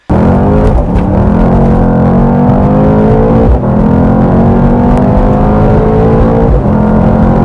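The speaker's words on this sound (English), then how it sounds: "inside the car, as you can hear, it rumbles like no other." A deep V8 engine in a Mercedes C63 S AMG rumbles loudly from inside the car, revving up in several rising pulls with brief dips between gear changes.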